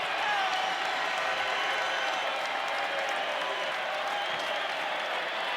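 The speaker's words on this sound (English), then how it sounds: "the Wake Forest crowd comes to life for the first time tonight" Wake Forest basketball arena crowd during an ACC men's game against Virginia, a steady roar of cheering and clapping filling the space throughout, loud and sustained with no clear break.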